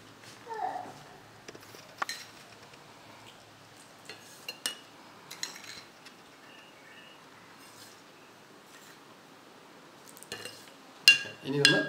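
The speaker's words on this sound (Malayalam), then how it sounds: "ഇനി ഒന്ന് ഇളക്കി കൊടുക്കാം നമുക്ക്." A spoon stirs hibiscus juice with sugar in a vessel, giving faint, scattered clinks and scrapes against the sides, sparse and quiet, with a few sharper knocks near the end.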